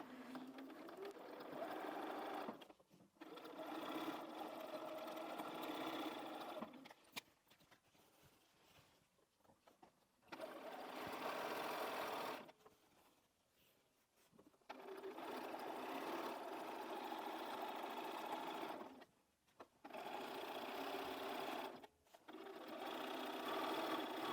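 A sewing machine stitches binding onto a Christmas tree skirt in several sustained whirring runs, separated by short quiet pauses, heard up close with no talking.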